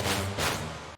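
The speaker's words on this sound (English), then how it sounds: "a classic headaches horn stab." Classic drum and bass synth horn stab, a short, bright, brassy burst with two quick accents that fades out within a second, moderately loud and alone.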